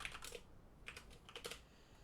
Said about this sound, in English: I was trying to type something off screen real quick